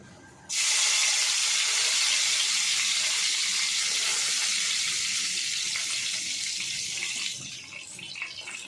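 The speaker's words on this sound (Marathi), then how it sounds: "तेल गरम झालं आता थोडी राई टाकते आता आपण याच्यामध्ये कढीपत्ता टाकून घेऊया" Curry leaves and mustard seeds dropped into hot oil burst into a sudden loud, hissing sizzle that holds steady at close range, then eases slightly toward the end.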